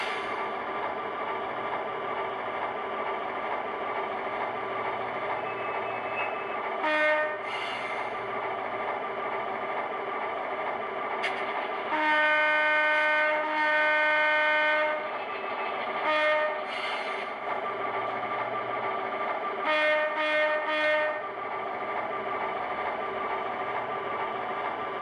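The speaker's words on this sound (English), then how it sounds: "now we're going to back up the train so that way we can get our next cut of cars prepared for the runaround" A model railroad train on the Rock Island local runs steadily throughout, a continuous engine hum broken by several bursts of a loud horn, with no one talking.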